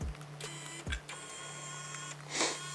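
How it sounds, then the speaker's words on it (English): Small electric motor raising and lowering the functional bed on a Traxxas Ultimate Hauler 1:10 RC truck, a steady whirring hum with a couple of brief clicks and a louder burst near the end, close and alone. "So I'm gonna go ahead and motorize it back down."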